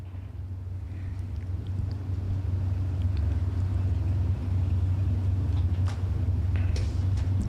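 Engines idle and rumble steadily at a drag strip during a bracket racing event, a continuous low drone heard from a distance without any clear revving or launch.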